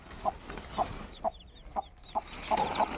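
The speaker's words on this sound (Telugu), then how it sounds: "మనం 3 వారాల కింద పొదిగేసిన పెట్ట అయితే ఈరోజు పిల్లలు తీసింది." A mother hen clucks with her newly hatched chicks, giving short, regularly spaced clucks about every half second while faint, high chick peeps come through in the gaps.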